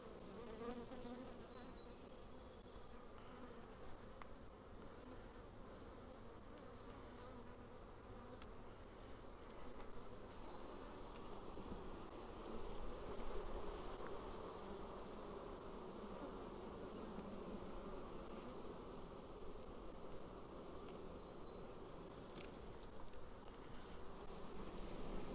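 Swarm of honeybees buzzing around stacked beehive boxes, a dense continuous drone with no pauses, steady in level, soft and close-mic'd, filling the whole stretch without voices.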